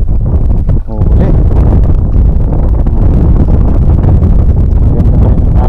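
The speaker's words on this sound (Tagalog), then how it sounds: "Biglang lakas ng hangin." Strong wind buffets the microphone in a continuous loud roar, with a brief dip before the gusts surge again.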